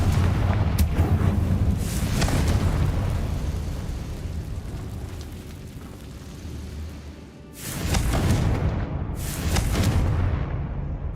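Repeated spell explosions from Confringo in the video game Hogwarts Legacy, loud booming blasts with rumbling low-end tails, a dense burst at the start and two more heavy bursts near the end, no talking.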